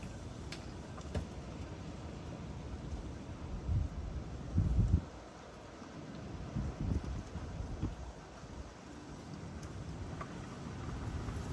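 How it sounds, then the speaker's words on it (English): Strong wind buffets the microphone outdoors while two-stroke equipment is being fueled, a steady rough roar with louder gusts swelling around the middle. "Wind's blowing pretty hard."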